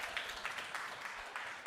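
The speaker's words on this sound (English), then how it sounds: "He gets applause just by getting up out of his chair" An audience breaks into brief, faint applause at a talk, a soft continuous patter of many hands lasting under two seconds with no voices on top.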